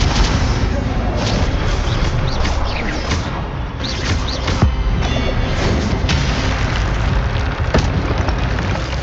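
Spells cast in the Hogwarts Legacy video game, dense loud booming and crackling magical blasts with rapid impacts layered over a constant rumble, heavy and continuous throughout.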